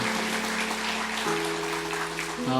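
A church congregation gives a sustained round of applause for the worship team, dense clapping of many hands over held keyboard-like chords that shift pitch partway through.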